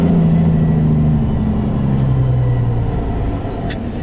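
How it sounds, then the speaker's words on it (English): A truck's engine brake rumbles loudly on a city street, a deep staccato drone that holds steady and then sags lower in pitch as the vehicle slows, with a faint squeal near the end. "Jake brake."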